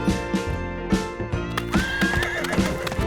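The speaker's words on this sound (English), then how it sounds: "Peppa loved watching the horses" A horse neighs in a loud, close, high whinny, with repeated clip-clop hooves in rhythm beneath it at a horse farm.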